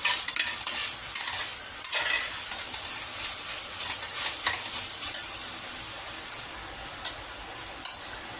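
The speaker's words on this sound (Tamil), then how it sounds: "1 டீஸ்பூன் அளவுக்கு இஞ்சி பூண்டு பேஸ்ட் போட்டாச்சு. நல்லா கிளறி விட்டுக்கலாம்." Ginger garlic paste frying in a pan for a mixed vegetable kurma, being stirred, with a steady loud sizzle and hiss and a few scraping strokes of the spoon, no talk.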